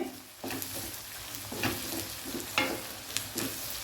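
Salted sliced onions and curry leaves sizzle steadily in a pan while a utensil stirs and scrapes them in several distinct strokes.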